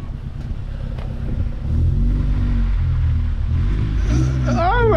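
A Mercedes CLA45s AMG with a manual gearbox pulls away, its engine rumble swelling and holding steady close by, with a voice breaking in near the end.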